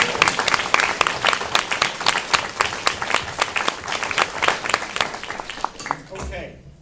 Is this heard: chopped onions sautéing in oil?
no